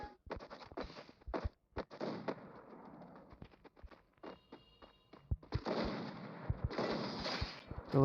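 Gunfire in the mobile battle game Free Fire, fired from an M1887-type shotgun during a custom duel: sharp, loud bursts and rapid clusters of shots, separated by quieter gaps of in-game ambience.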